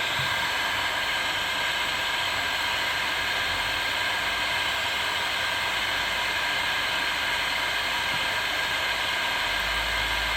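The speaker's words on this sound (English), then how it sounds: "So we're going to work on heating this fitting up," Heat gun warming a rubber upper coolant hose T fitting on a 2013-2016 vehicle, a steady broadband airy hiss holding constant throughout, close and fairly loud with no talk.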